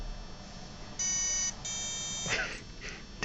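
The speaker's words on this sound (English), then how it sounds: "Should beep." Electronic beeps from a desktop toy helicopter, a steady high tone for about half a second then a second longer tone, quiet indoors with a faint voice and some rustling near the end.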